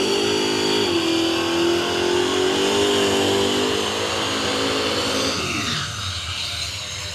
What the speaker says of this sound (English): Oh, how about the burnout from the van?